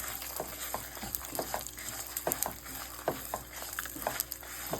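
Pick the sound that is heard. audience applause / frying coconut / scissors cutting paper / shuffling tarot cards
frying coconut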